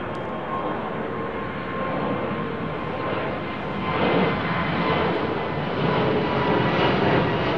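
Finnair Airbus A350 departing London Heathrow runway 09R, a steady broad jet engine roar at a distance that swells gradually throughout.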